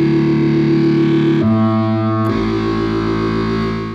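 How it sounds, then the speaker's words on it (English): A heavily distorted bass synth preset from Output Substance, buzzing like punk rock guitars, sustains loudly with a brief shift in tone midway before returning, alone without speech. "this one has a place in my heart because it sounds like straight up punk rock guitars"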